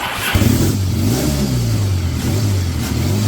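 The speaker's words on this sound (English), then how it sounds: "Turn the ignition on, and she's ready to start." A Triumph T140 motorcycle's electric starter kicks the engine into life, which catches at once and settles into a loud, steady, close-up running note with no talk over it.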